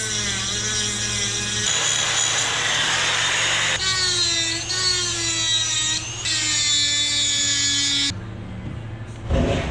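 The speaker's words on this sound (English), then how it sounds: "Going with the easy fix, Dremel it is." A Dremel rotary tool whines and grinds as it cuts, a close, high buzzing that runs in several continuous stretches with brief pitch shifts and pauses, ending abruptly.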